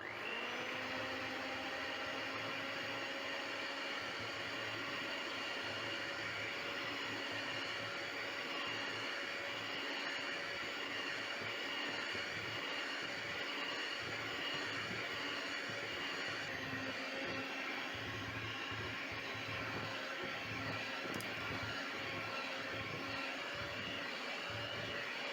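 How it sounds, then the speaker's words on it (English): An electric stand mixer kneads sausage roll dough with a steady, unbroken motor whir that stays quiet and even for about twenty-five seconds. "I'm going to let my mixer mix for around 5 to 7 minutes"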